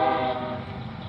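A CSX train passing at a railside spot in Auburndale or Lakeland, its horn sounding as a loud sustained tone over rolling rumble, with no speech.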